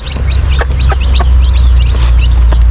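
A mother hen clucks and chatters in short, rapid bursts at close range, with other chickens mixed in over a steady low rumble of outdoor noise.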